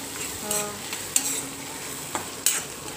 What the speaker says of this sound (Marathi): आता मम्मीने आत कांदा टाकलेला आणि याला पण मस्त मिक्स करून घेणार आहे